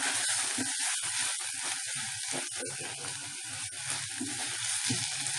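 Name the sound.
semolina (rava) frying in oil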